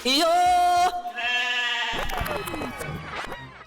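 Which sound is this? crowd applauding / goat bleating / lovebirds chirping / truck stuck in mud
goat bleating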